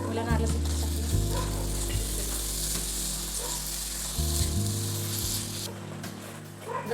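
Jaggery melting in a pan with coconut ghee just added, a steady close sizzle and fry with occasional stirring scrapes, no talking.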